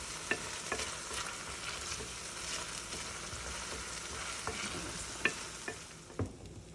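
Garlic and onions frying in a pan for curry shrimp and sausage, a soft continuous sizzle with scattered utensil taps and stirring clicks throughout.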